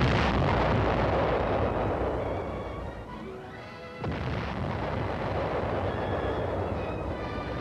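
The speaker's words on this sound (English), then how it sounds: "The chain of supply ends as armored artillery batteries fire outgoing rounds at enemy-held" Armored artillery batteries fire outgoing rounds at enemy-held points in wooded hills during 1951 Korean War combat, heard as a continuous loud, rumbling barrage with a brief dip before a renewed heavy boom.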